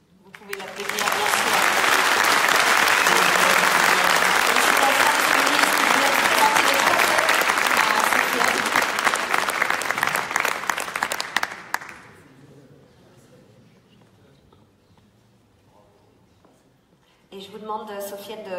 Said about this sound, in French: Vous pouvez l'applaudir, bien sûr.